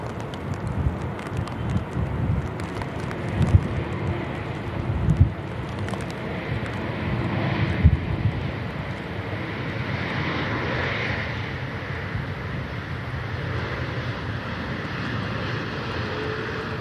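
A Titan Airways A321neo lands at Manchester Airport in windy conditions, heard as a steady, distant jet roar mixed with gusty wind buffeting the microphone.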